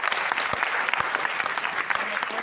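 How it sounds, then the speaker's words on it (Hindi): An audience in a seminar hall breaks into dense, sustained applause, many hands clapping together at close range throughout the whole stretch. "जोरदार तालियां"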